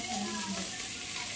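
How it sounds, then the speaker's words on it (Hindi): Jackfruit fries in a pan, a steady broadband sizzle filling the brief moment without pause. "और हमारा कटहल भी फ्राई हो चुका है"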